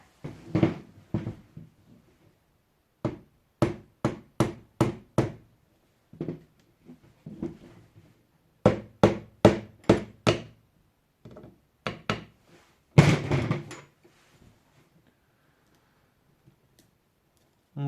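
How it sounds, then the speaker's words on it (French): A small hammer taps a pin into a Huben GK1 V3+ in sharp, distinct knocks, fired in quick bursts of several strikes separated by short pauses, close and clear against a quiet background. "Je vais aller chercher un petit marteau pour m'aider."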